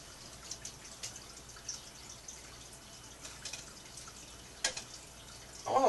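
A Keurig coffee maker brews with faint, irregular drips and trickles of liquid, ending in a louder gurgle.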